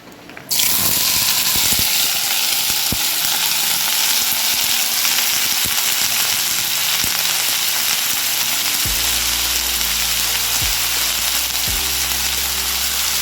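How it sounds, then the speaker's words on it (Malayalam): Chopped raw plantain hits a hot clay pan with a sudden loud hiss that settles into a strong, continuous close sizzle; faint tonal background sounds appear toward the end, with no talking. "ഈ ചീഞ്ചട്ടി ചൂടായിട്ടുണ്ട് നമുക്ക് കായ നുറുക്കി വെച്ച് ഇതിലേക്ക് ഒഴിച്ചു ഇട്ട് കൊടുക്കാം"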